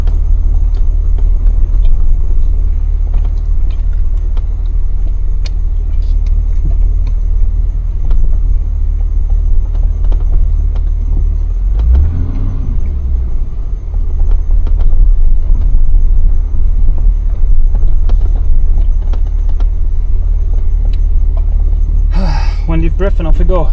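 A 37-year-old classic BMW 5 Series drives off-road through a water hole in Guinea, its engine a steady, loud, low rumble throughout, with a brief voice near the end.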